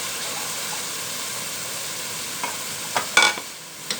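Chana dal being stirred and fried in a prepared masala, a steady soft sizzle running throughout with a few sharper scraping stir strokes near the end.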